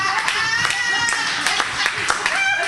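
Audience clapping at a talk on gun violence and children's mental health, scattered hand claps mixed with crowd voices and chatter throughout.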